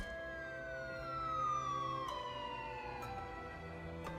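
An ambulance siren wails with a long descending tone, holding close and fairly loud over a low background hum for several seconds, with no talking.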